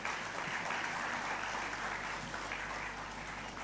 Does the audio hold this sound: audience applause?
yes